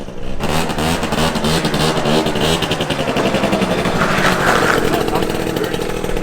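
A car engine revs hard through a new exhaust with a major exhaust leak, giving a deep, raspy exhaust roar, rising and holding loud and close for several seconds.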